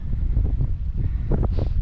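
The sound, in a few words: wind on the coast at St Bees Head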